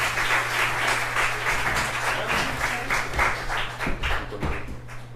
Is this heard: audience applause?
yes